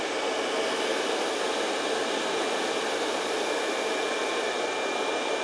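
Hair dryer blowing hot air onto a twisted section of hair during a blowout, a loud, constant rushing roar held steadily throughout at close range.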